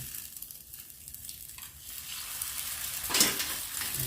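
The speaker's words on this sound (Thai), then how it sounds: "มล้วกอสุกแล้วก็ใส่ไข่ลงไปค่ะ" Egg poured into a frying pan of cooked papaya, a continuous sizzle and crackle of hot oil with light stirring scrapes, swelling louder near the end.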